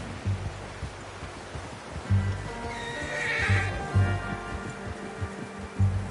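Horse in Red Dead Redemption 2 whinnies clearly mid-clip over repeated hoof clops and low rumbling, with a steady game ambience underneath and no talk.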